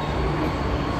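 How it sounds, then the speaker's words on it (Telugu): A metro train rumbles at a station in China, making a loud, close, continuous low drone that stays steady throughout. "నా వెనకాల కనిపిస్తుంది కదా, ఇదే మెట్రో"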